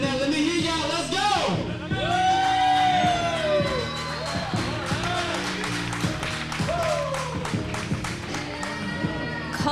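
Crowd at a Generation Championship Wrestling pro wrestling event cheering and whooping loudly and steadily for about ten seconds, with an announcer's amplified voice and music under the noise.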